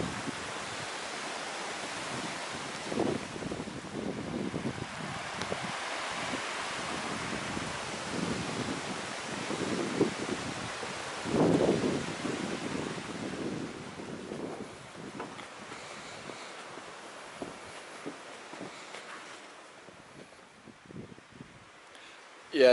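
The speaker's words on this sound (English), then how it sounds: "too windy on the bridge" Wind blows across a rocky bridge over the River Elan in the Cambrian Mountains, a broad, steady rushing hiss with gusty swells and buffeting near the microphone that eases off toward the end.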